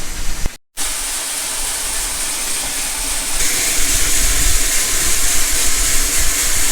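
A grain quick cleaner augering faba beans and screening out vetch, a loud steady mechanical hiss and rush that briefly cuts out, then returns and grows slightly louder and brighter.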